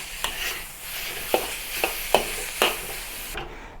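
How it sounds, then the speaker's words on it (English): Meat and shrimp toss in a wok with tender vegetables for a Cantonese spring roll filling: a steady close sizzle broken by about five sharp scraping stirs spaced a fraction of a second apart. "Return the meat and the shrimp to the wok when the vegetables are already become tender."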